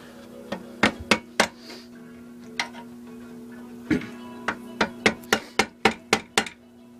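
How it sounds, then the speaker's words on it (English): A hammer strikes a screwdriver to bend the small tabs on a 5 HP Briggs & Stratton engine during a teardown, giving sharp metallic taps, a few spaced ones and then a quick run of about a dozen. "Take a hammer and a screwdriver. Bend those little tabs down."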